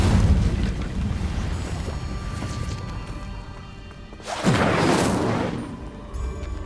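Incendio fire spell cast in the Hogwarts Legacy video game: a sudden roaring whoosh of flame bursts in over a rumbling ambient bed, swelling loudly for about a second before settling back into the background.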